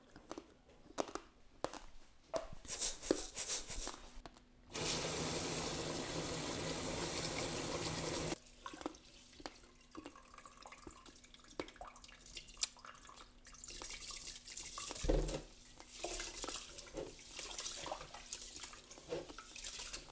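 Rice being washed in water makes a few seconds of steady splashing and swishing, set among scattered drips and small knocks, fairly quiet and close.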